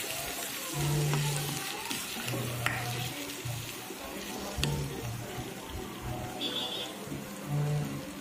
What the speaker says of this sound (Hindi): इसमें ऐड करूँगी हमारा मसाला जब भी आप मसाला ऐड करें लो फ्लेम पे ऐड करें इसे दो से तीन मिनट तक भून लें